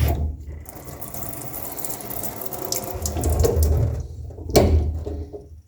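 Water drains from a kitchen faucet line during an install, with a steady broadband rush of flow and a few mechanical clicks, rising briefly near the end before cutting off.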